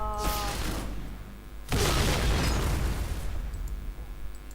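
Heavy booming explosions with rumbling, noisy blasts that swell and fade, dense and loud, from combat in the shooter game Point Blank.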